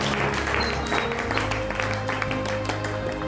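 A congregation claps for Jesus during a church service, a steady patter of many hands held at moderate volume over sustained musical tones from an instrument playing underneath.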